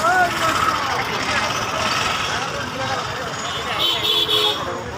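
Roadside traffic with passing trucks, cars and buses, heard as a steady roadway rumble broken by short horn toots near the end, with people talking over it.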